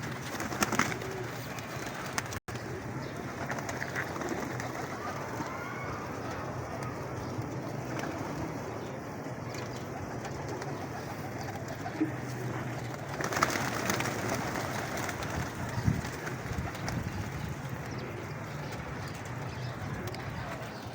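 Pigeons coo softly in a bird dealer's yard in Lahore, low repeated calls over a steady murmur of background noise, with an occasional faint clopping sound.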